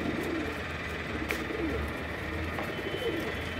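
Domestic pigeons coo softly in their loft, with low, repeated burbling calls under a steady background hum and no talking.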